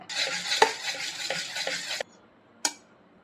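Dosa batter with tomato paste and salt stirred in a bowl, a steady scraping swirl for about two seconds, then a pause and one short clink of the utensil.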